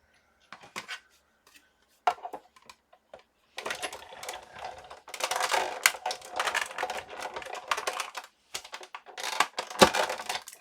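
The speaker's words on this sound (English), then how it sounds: "I'm going to cut this out before I glue that in, because I want this big tag" Scissors or a die-cut tool snip through a paper tag in bursts of crisp, close clicking and crunching cuts, sparse at first and then denser, with short pauses between runs.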